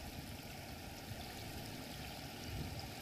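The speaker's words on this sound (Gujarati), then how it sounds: "ભારે વરસાદને કારણે મીંઢોણા નદીમાં પૂર આવી" Floodwater of the Mindhola river rushing near a submerged bridge in Bardoli, Surat, after heavy monsoon rain, a faint continuous roar of water with no voices.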